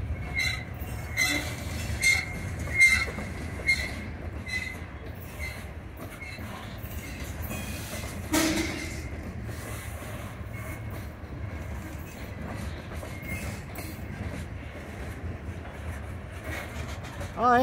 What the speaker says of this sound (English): Yeah, this is definitely a Western train.